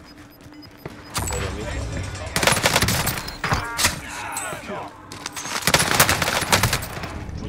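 Gunfire fills a match of Call of Duty on Rebirth Island: loud, dense rapid bursts and fusillades from several weapons, under tense shouted talk from players.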